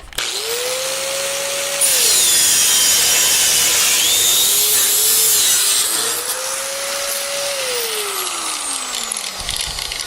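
An angle grinder bites into metal under heavy arm pressure, a loud, continuous harsh whine that holds steady throughout, its motor pitch sagging under load and rising again as the pressure eases.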